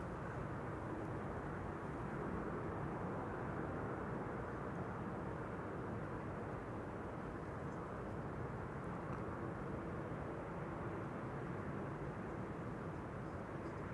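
An Aer Lingus airliner arriving from Dublin and landing at Amsterdam Schiphol produces a steady, distant broadband engine roar that holds evenly throughout, with no talking.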